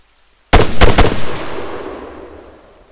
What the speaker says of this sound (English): prepare to open fire, guys